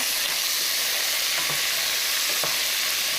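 Tofu, onions and green peppers frying in a pan while being stirred, a close, steady sizzle broken by a few soft scraping strokes of the spoon, with no voices.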